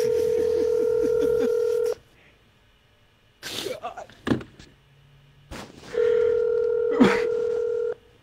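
A phone ringing in Rainbow Six Siege: two long, loud electronic ring tones, one at the start and one near the end, with quieter clatter and thumps between them.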